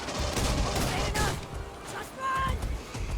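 Gunfire from the video game Aliens: Colonial Marines, a dense stream of rapid shots rattling at steady volume with a short lull midway, mixed under game sound effects.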